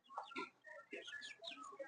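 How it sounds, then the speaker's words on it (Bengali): A single native rooster calls repeatedly in a series of short, bright, harmonic cries with brief pauses between them, moderately close and fairly soft, with no talking. "সিঙ্গেল দেশি মোরগটা, অনেক সুন্দর, কিন্তু প্রচুর ডাকাডাকি করে"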